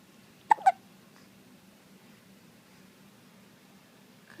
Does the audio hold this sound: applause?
no